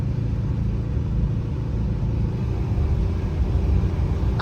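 A 1967 Chrysler 300 drives on the road, heard from inside the cabin as a steady, low engine rumble and road drone with no talking.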